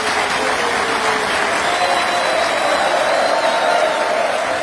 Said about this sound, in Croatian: Posebnim pljeskom pozdravite našeg vatrenog gospodina Josipa Đova Šimunića.